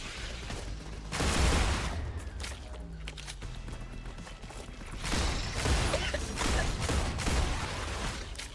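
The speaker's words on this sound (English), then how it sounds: "Changing mags." Weapon reload while swapping magazines in the StarRupture video game: close mechanical clicks, clacks and ratcheting, with bursts of gunfire-like noise swelling around them.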